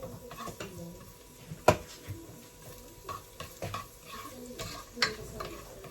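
Onion sautéing in a pan for Filipino chicken tamarind soup: a soft, steady sizzle with intermittent stirring scrapes and a couple of sharp utensil clinks, close and moderately quiet, no talking.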